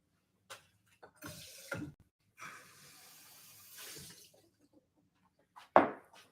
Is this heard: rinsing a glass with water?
yes